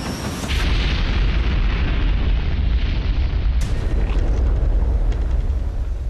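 Saturn V third stage exploding on its test stand, a dense, loud roaring rumble sustained throughout with a sudden burst partway through, with no voices.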